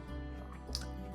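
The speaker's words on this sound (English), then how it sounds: "Let's go ahead and pour it and get some air in it." Smoke Wagon Small Batch bourbon is poured into a glass, a soft liquid trickle and drip heard close up and quietly, with no talk.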